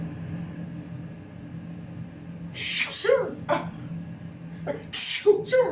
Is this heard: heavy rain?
no